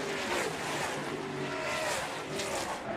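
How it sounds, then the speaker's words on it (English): Loud, continuous roar of NASCAR Canada Series stock car engines racing close by down the Andretti straightaway at Canadian Tire Motorsport Park, a steady broadband drone with rising and falling pitch as several cars sweep past. "just love hearing the engine note from these NASCAR Canada Series cars as they head down the Andretti straightaway"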